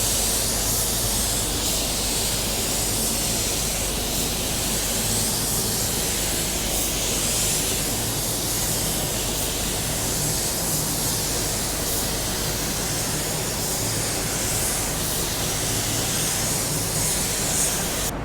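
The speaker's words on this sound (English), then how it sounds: "Let's spray on the first coat so I can show you that." A spray gun lays down the first coat of car paint, mixed with slow reducer for blending: a steady, close, unbroken airy hiss that holds at even loudness throughout, with no voices over it.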